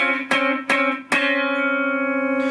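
Three plucked guitar strikes of a minor second interval, each ringing into a sustained, tense dissonant chord that hangs and fades slowly.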